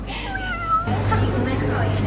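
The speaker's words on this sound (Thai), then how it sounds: "ว่าแต่แมวมาเล่นด้วย" A cat meows with rising and falling calls, close and clear, then a voice talks over the end as a low hum sets in.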